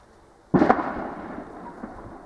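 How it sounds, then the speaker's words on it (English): A single sharp daytime firework bang bursts suddenly, then its rumbling echo slowly fades into the distance. "That was a firework."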